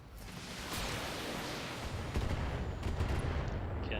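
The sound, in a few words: Locust mech firing missiles in the video game BattleTech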